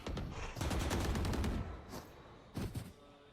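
Rapid bursts of gunfire from a Valorant esports match, loud and dense for the first second and a half, then a quieter gap before another short volley near the end.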